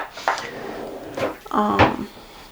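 A desk drawer in a modelling workshop, holding hobby paints and hand cream, slides open and shut with a few close wooden rattles and knocks, ending in a firmer clatter.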